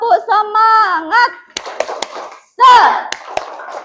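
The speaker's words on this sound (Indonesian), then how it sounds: "kita tepuk semangat ya" A classroom of students performs the tepuk semangat spirit clap, chanting voices mixed with a few sharp rhythmic claps in quick bursts, fairly loud and close.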